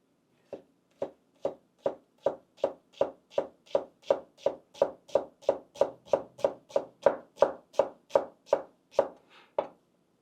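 Sharp knife slicing across a shallot on a cutting board, about twenty crisp, evenly spaced chops in a steady rhythm, close and clear with no talk.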